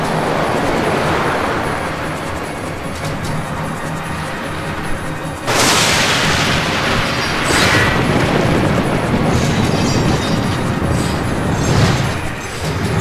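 A Tsunami spell in Final Fantasy XII crashes in as a loud, roaring surge of water, a heavy rushing wash that slams in midway and keeps churning with further swells.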